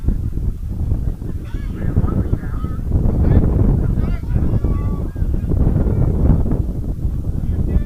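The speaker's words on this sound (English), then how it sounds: "See, the wind is also blowing that camera around." Wind buffets the camera microphone at an outdoor high school baseball game, a loud, continuous low rumble. Geese honk repeatedly through it and a voice is faint underneath.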